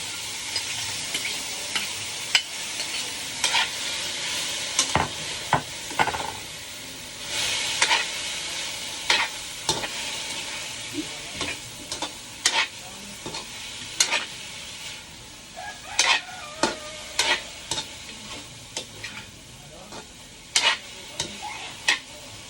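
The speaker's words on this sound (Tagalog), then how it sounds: "Yun, gigisa lang natin." Chicken pieces sautéing in a pan give a steady sizzle broken by many sharp scrapes and clacks of stirring, close and fairly loud, with no talking.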